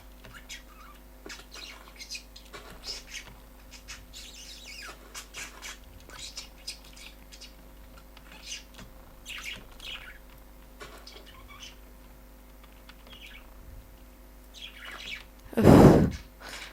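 Scattered bird chirps and tweets in the Minecraft modpack Hexxit over a steady low hum, with a sharper, louder squawk near the end; faint background activity throughout.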